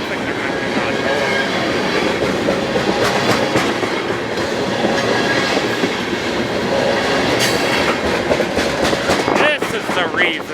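A freight train hauling tank cars and a gondola rolls past close by on rails, with steady rumble, rhythmic clickety-clack and brief squealing of the wheels, while people talk over it.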